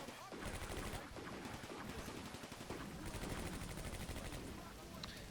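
Rapid machine-gun and rifle fire from infantry squads fighting Russians in the Combat Mission Barbarossa to Berlin wargame crackles in long, continuous bursts, fairly quiet overall, with a brief pause before the rattling resumes.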